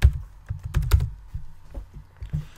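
Typing on a computer keyboard while entering a formula in Microsoft Excel: irregular bursts of crisp, close key clicks with short pauses between them, no talking.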